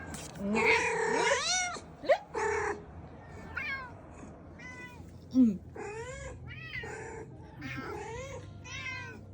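A cat meows and caterwauls in a run of drawn-out, wavering cries, some loud and close and others softer, with short pauses between them.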